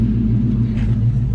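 A car engine rumbles steadily at idle as a drive begins, a deep continuous low hum close by with no voices.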